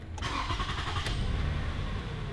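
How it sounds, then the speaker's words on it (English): A Toyota Sienna minivan engine cranks and catches, then settles into a steady, close idle hum. "We can go ahead now and start the engine."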